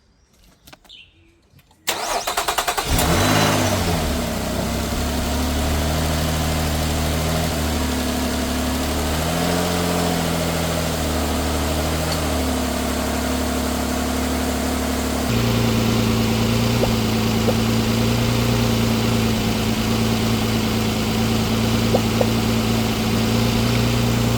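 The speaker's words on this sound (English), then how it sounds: "I'm gonna start it up, see what's good" A 2009-2014 Nissan Maxima 3.5L V6 engine cranks briefly and catches, then settles into a steady, loud idle that continues at a slightly changed pitch later on, no talk.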